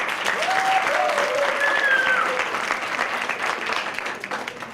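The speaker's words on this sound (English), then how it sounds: "give her a big applause for now" An audience at a project management conference applauds steadily and fairly close, a dense wash of clapping that runs the whole stretch, with a faint voice briefly audible over it and the sound tapering slightly at the end.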